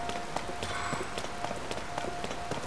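Rain patters steadily in Zelda: Tears of the Kingdom as a dense, constant hiss, with soft repeated taps and footfall-like thumps throughout and a faint high tone in the background.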